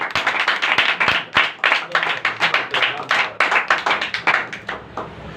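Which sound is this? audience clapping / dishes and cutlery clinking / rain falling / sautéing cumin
audience clapping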